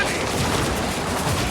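Galley weapons firing in Assassin's Creed Origins on Xbox Series X, a loud, dense barrage of rumbling shots that runs without pause for the whole moment.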